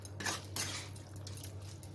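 A spoon clinks and scrapes against a pan as okra masala is stirred, with several close metallic strokes in the first second and softer scraping after it, under a steady low hum and with no voices.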